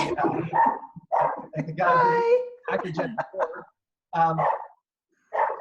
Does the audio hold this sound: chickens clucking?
no